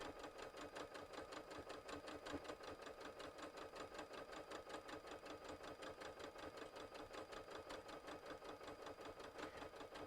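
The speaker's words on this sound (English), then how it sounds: "Yes, I know I could speed up the sewing machine, but for this purpose, I'm not." A sewing machine runs at a slow, even speed while stitching quilt pieces for a table topper, a steady rhythmic mechanical clatter that stays close and continuous throughout, with no talking.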